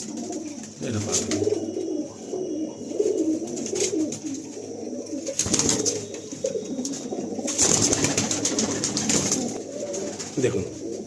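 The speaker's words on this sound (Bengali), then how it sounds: "এটা পায়রা" Pigeons coo repeatedly in a large pigeon loft in South Kolkata, a steady layered murmur of low throaty calls with occasional rustles, under scattered human voices.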